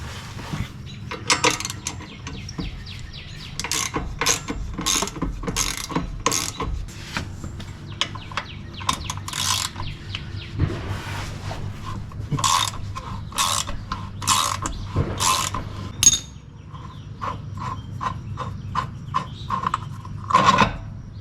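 A hand ratchet works 18 mm bolts loose from a truck's steering damper, giving rapid bursts of sharp metallic clicking in repeated strokes with short pauses between runs, close up and without talk.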